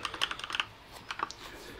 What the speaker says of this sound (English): if I try typing in a message